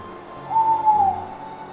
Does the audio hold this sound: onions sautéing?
no